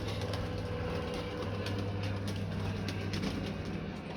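Pigeons at a feeding spot coo softly in a steady low murmur, with faint wingbeats and scuffling mixed into a continuous ambient backdrop.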